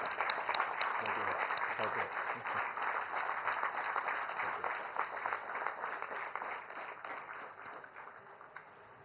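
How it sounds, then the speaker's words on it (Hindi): Dense, sustained crowd applause welcomes Prime Minister Narendra Modi at the inauguration of Nalanda University in Bihar; steady loud clapping fills the whole stretch and fades slightly toward the end. "तालियों की करतल ध्वनि के साथ हम आपका स्वागत करते हैं"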